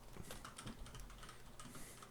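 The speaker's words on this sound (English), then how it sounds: "my cat jumped on my keyboard." A cat stepping across a computer keyboard, keys clattering in a quick irregular burst of soft taps, faint and close, with no talking.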